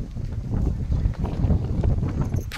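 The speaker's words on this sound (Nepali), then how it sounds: "हावा आको" Wind gusting across an open outdoor viewpoint, a steady low rumbling buffet against the microphone with surging bursts throughout, loud and close.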